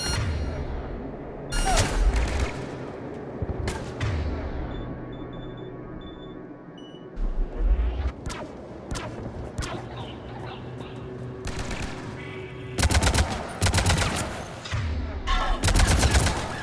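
Sniper and battle gunfire in Mass Effect, with sharp cracking shots and bursts arriving in irregular clusters over a droning background, some beeping tones, and a voice speaking briefly.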